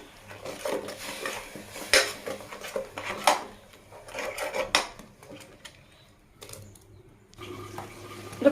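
Masala with ground tomato is stirred and fried in a pot, heard as close metallic scraping and clanks of a utensil against the pot in uneven bursts, with soft bubbling between, no voices.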